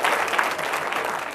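Audience applause at a school board meeting, a dense burst of clapping from a crowd filling the room, loud and steady for a moment before easing slightly.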